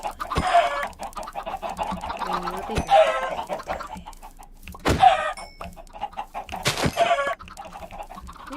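Cartoonish chickens cluck repeatedly in a video game, short bursts recurring every couple of seconds under a person talking over them.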